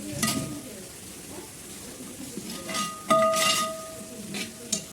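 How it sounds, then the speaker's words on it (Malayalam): Beef stirred with masala in a pan for a beef roast gives soft scraping and light sizzling, with faint intermittent clinks and a brief tonal ring near the end. No voice. "എന്നിട്ട് ഇതെല്ലാം കൂടിയിട്ട് നന്നായിട്ടാണ് ഒന്ന് മിക്സ് ചെയ്ത് കൊടുക്കുക."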